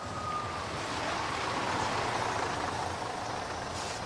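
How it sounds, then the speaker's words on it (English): A bus approaches with a broad, steady rushing roar of engine and road noise, faint and washy like surf, holding fairly even across the few seconds. "A bus approaches."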